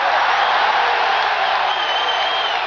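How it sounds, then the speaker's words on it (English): Boxing arena crowd roaring and cheering continuously for Muhammad Ali's introduction, a loud dense wash of voices filling the whole moment without pause. "crowd stands as one for Muhammad Ali"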